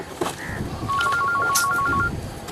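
A phone rings with a repeating electronic tone, a run of quick beeps lasting about a second, with faint background noise and brief murmurs around it.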